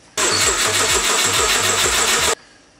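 A Subaru EG33 flat-six swapped into a car and run on a Megasquirt3 ECU starts up loudly and close, with a rhythmic pulsing running for about two seconds before it cuts off abruptly.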